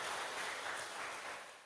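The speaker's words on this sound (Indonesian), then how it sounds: "Tepuk tangan untuk GITJ Tegalharjo" A church congregation claps in a steady, dense wash of applause that carries on throughout, heard from within the room and fading slightly at the end.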